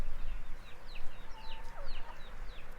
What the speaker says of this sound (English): those chickens are gonna get you